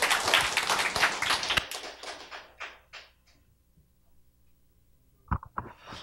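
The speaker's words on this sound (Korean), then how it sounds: "박수로 맞이해 주시기 바랍니다." A burst of clapping from a crowd, loud at first and then thinning out into scattered claps before fading, with a few sharp taps near the end.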